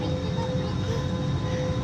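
Steady airplane cabin drone from the engines aboard a passenger flight, a constant low rumble with a faint hum filling the whole stretch, no one speaking.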